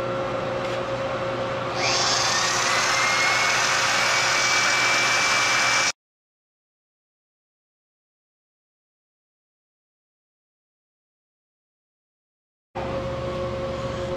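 A 12 valve Cummins crankshaft spins on a large lathe while being polished, a steady loud mechanical whir with a rising whine, cut by a long stretch of silence before the drone resumes.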